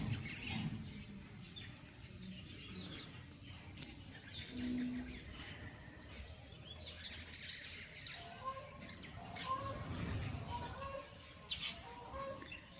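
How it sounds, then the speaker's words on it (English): Birds calling outdoors after morning rain as they feast on white ants, with scattered chirps, clucks and rooster-like calls at moderate distance over soft ambient noise. "We have a lot of birds here today. They are feasting on white ants."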